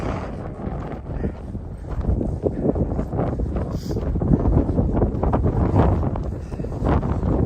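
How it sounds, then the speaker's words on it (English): Cold wind gusts steadily across a microphone on an outdoor dog walk, a continuous low rumbling buffet that stays loud throughout with rustling texture. "Ooh, that wind is cold."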